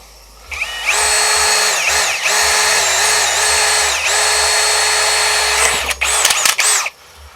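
An AEG BSB18BL cordless drill bores into steel, running loud and close in a sustained whine for several seconds with slight pitch dips under load, then stopping and giving a few short bursts at the end.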